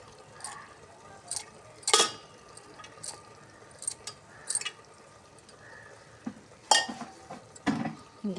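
Soaked chana dal with turmeric and chilli powder is stirred in a pan, sharp scraping and clattering strokes of a spoon in irregular bursts over a low background, close and fairly quiet.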